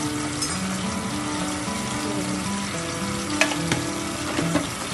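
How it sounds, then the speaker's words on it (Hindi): Chopped capsicum and tomatoes stir-frying in hot oil for dum kabab, a loud continuous sizzle with spoon scrapes and a few clinks toward the end, no voices. "इन्हें ज़रा सा हम स्टर फ्राई करेंगे"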